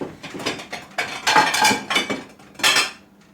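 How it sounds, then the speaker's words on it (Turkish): A tray-sized plate is set over a baking tray before it goes in to cook, producing a quick run of clattering metal and ceramic clinks and scrapes, close and fairly loud, with no talk. "Şu tabağımı koyacağım arkadaşlar açılmasın diye"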